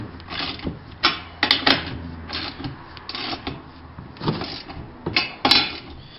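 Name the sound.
tightening down a bolt while assembling the MailSwing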